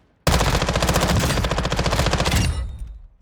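A submachine gun in a Call of Duty Warzone firing range fires one rapid, sustained full-auto burst of about two seconds, loud and close, then a short echoing tail.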